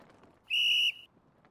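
A single bright, steady whistle blast to start a race in a video game, lasting under half a second, loud and clear over a faint background of quiet chatter.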